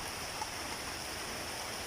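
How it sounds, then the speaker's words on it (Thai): Steady rain hisses continuously with an even, dense patter and no other distinct sounds, falling on a farm with a cattle pen and duck coop. "ฝนตกครับอากาศกำลังดี"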